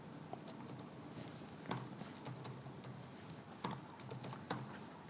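Keyboard typing into a Word document, a steady run of soft close key clicks with a few louder strokes, no voices.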